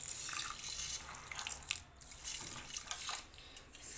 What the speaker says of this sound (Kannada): ಸ್ವಲ್ಪ ನೀರನ್ನು ಹಾಕ್ಕೊತೀನಿ ಸ್ವಲ್ಪ.